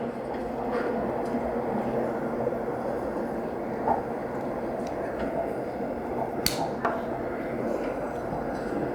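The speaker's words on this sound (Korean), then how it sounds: "지하철 5호선 소음을 한번 틀어보겠습니다" A steady, continuous rumble of a Seoul subway Line 5 train running underground, with faint squeaks and clicks along the rails.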